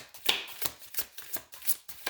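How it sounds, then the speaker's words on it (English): Tarot cards being shuffled by hand give a series of quick, crisp riffling bursts in a steady rhythm, close up and clear, with no talking. "We shuffle on camera."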